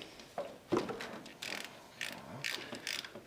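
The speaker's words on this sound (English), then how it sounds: "take your ratchet" A ratchet wrench loosens a spark plug from an engine ahead of a compression test, giving close, quick bursts of clicking pawl strokes with short pauses between them and no talk.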